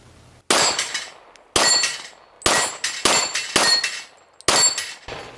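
Steel plate targets ring out as bullets from a 40 caliber XDM pistol strike them outdoors, sharp metallic clangs in a spaced series of about six bursts, each with a short bright ring and some quick doubled hits.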